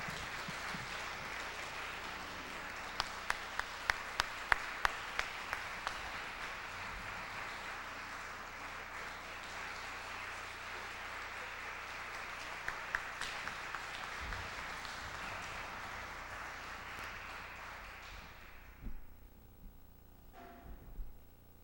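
Concert audience applauding for a folk singer at a 1994 Mahanoy City show, a long sustained wash of clapping with a few sharper nearby claps, fading out near the end.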